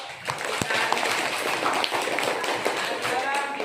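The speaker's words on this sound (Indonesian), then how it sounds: "Ayo, tepuk tangan untuk" Classroom applause as students clap for a classmate, a dense steady patter of hands close by, with a voice faintly audible underneath.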